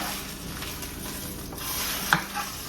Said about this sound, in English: I'm gonna flip it and let it cook skin side down.